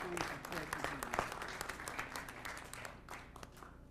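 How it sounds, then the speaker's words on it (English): Applause from the audience at a city council meeting, steady light clapping heard from a distance and fairly faint, with a room murmur beneath it. "Let's give him a round of applause."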